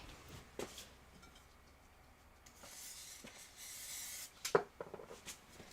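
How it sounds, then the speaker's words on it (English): Short hissing bursts of aerosol spray adhesive onto the back of felt, a few quick sprays close by separated by quiet rustling and handling sounds. "I'm going to give my felt a little shot of spray to the back"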